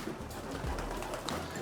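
Pigeons in a Dutch-model loft coo softly and continuously amid a busy flock background, with low rolling calls overlapping close by.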